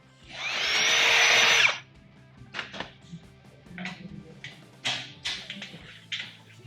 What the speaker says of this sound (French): Et après je peux percer et pointer l'insert comme on a fait en haut.